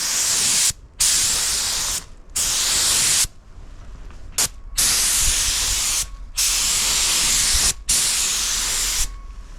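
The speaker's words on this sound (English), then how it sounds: "I'm about ready to spray this blue." Spray gun hissing out macaw blue-green metallic paint in loud, sustained bursts, roughly seven passes broken by short pauses, close and steady with no talking.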